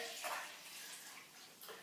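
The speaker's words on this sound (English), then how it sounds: "I pour it into my container here" Cinnamon ginger golden milk is poured into a 1-liter container, making a soft, steady liquid trickle and splash that stays faint and close, with no talking.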